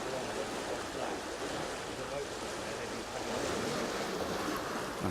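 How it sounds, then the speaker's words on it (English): Water rushes and swirls into a canal lock as it fills and lifts a boat, a steady broadband roar holding level throughout with wind buffeting the microphone. "The water's moving into the lock much more quickly now. It's beginning to really swirl and fill up"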